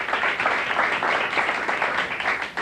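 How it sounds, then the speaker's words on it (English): A studio audience at a 1980-81 high school quiz bowl taping gives steady applause, a dense wash of many hands clapping at moderate distance, continuous and even throughout without talk. "Let's give them a round of applause, too, huh?"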